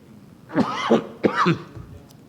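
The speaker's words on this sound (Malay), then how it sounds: "Maaf, batuk." Two close, distinct coughs in quick succession, harsh and throaty, then quiet.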